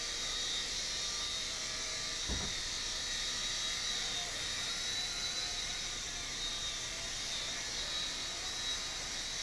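An Air Hogs Gyroblade toy helicopter in flight gives off a constant high-pitched electric whine and rotor buzz, close and steady throughout, with one brief low thump partway through and no talking.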